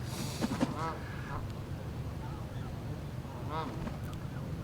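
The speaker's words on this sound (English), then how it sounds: "The geese are unruly." Geese honking at a distance, a few scattered nasal calls over a low steady background hum.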